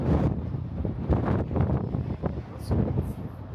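Strong wind blasts straight into the microphone in loud, uneven buffeting gusts, with a person's voice faintly audible beneath the rumble.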